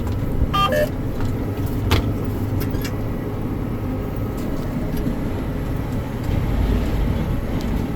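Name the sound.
tractor driveline rattling under load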